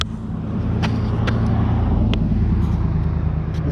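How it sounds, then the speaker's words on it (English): Cars pass steadily on a road near Elkhorn Lake at commute time, a loud continuous rumble of traffic with a vehicle roaring close by. "It's usually not so noisy with cars on this road."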